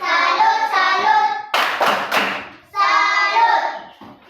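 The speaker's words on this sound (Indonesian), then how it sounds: "Tepuk salut untuk kita dulu." Schoolchildren in an elementary classroom clap in unison for a salute chant, with bursts of rhythmic hand claps interleaved with loud group chanting voices, all close and lively.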